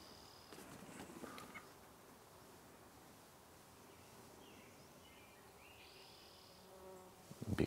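Faint, steady buzzing of bees around a flowering shrub hangs over quiet outdoor garden ambience, with a few soft bird chirps and a closer rustle near the end.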